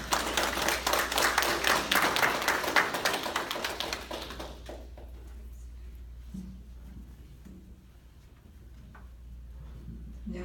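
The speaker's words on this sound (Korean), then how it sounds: "나오실 때 큰 박수로 맞아주시기 바랍니다" An audience at a Korean folk music forum applauds a folk singer walking on stage, a close, brisk burst of clapping that fades out after about four seconds into a quiet room with small scattered noises.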